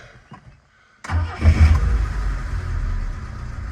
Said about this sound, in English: quick video of start up and idling on this BMW 1602